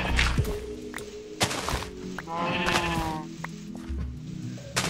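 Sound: sheep bleating in the video game Minecraft

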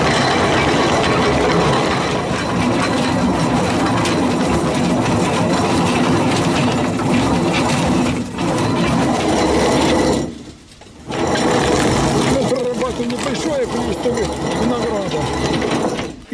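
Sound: grape crusher-destemmer separating Black Apiana grapes from stems

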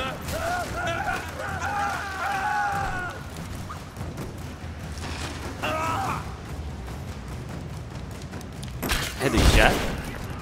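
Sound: gunfire in video game Rise of the Tomb Raider

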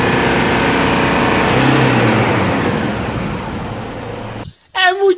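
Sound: Toyota Hilux Flex 2.7 engine running

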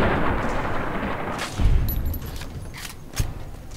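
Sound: gunshots in the video game Fallout: New Vegas

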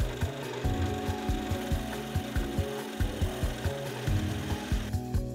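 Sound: drilling holes in wooden fox craft

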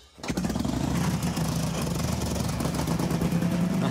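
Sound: Knucklehead big twin motorcycle engine running

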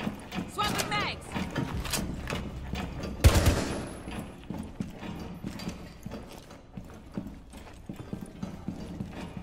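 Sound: swapping magazines, reloading a gun in video game Rainbow Six

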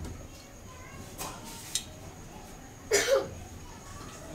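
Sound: child coughing

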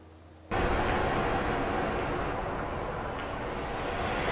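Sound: played recording of ocean waves sound

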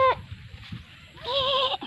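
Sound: goat bleating

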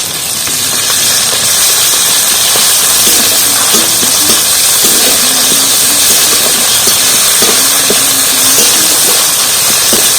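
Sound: ginger paste sizzling as it is fried in a pan

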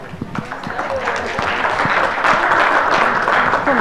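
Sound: applause

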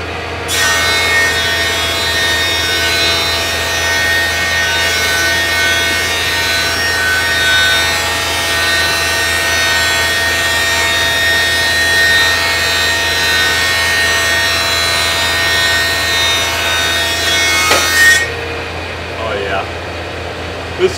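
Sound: smoothing a rough-cut cedar trim board

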